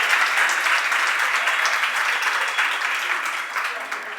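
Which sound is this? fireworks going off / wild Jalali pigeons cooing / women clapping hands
women clapping hands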